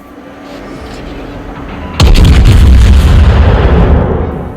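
A Tier 9 German tech-tree battleship in a naval combat game fires a long-range main-gun volley. A sudden, very loud boom cuts through the low background hum and rolls into a heavy rumble that fades slowly.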